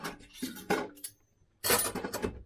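Bursts of clattering dishes and clinking utensils, close by, in two busy spurts separated by a short quiet pause.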